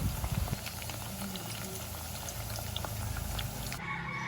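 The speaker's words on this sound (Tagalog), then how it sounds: "Pagkatapos kong magpainit ng mantika, ayan at sinunod ko naman itong ham." Ham frying in hot cooking oil for lunch gives a steady, close bubbling sizzle that runs unbroken and fairly loud, then turns thinner and quieter near the end.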